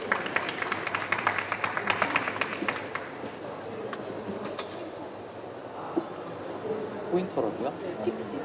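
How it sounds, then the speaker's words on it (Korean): Audience applause welcoming a chef speaker at a franchise conference, a burst of many claps in the opening seconds that thins out into scattered claps and murmuring room noise. "큰 박수로 맞이해 주시기 바랍니다"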